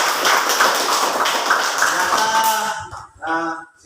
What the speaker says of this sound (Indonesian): tepuk tangan untuk Pak Vidya.